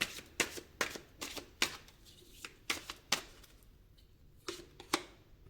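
Tarot cards are shuffled and drawn by hand, giving a series of crisp, close riffling snaps and flicks in irregular bursts, about a dozen sharp clicks against a quiet room with no talking.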